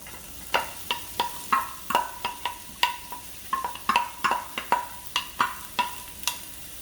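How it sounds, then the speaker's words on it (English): Onions go into a pan of oil and are spread and stirred, giving a series of sharp, evenly spaced utensil taps and scrapes over a soft, low sizzle, close by and without speech. "we're going to add in the onions"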